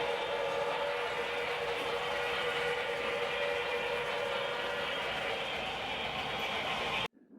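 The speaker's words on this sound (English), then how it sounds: "the sights and sounds of the South End Canyon with the whistle echoing off the canyon walls" A steady, sustained train whistle rings out loudly with a broad, reverberant wash echoing off canyon walls, holding for several seconds before cutting off abruptly.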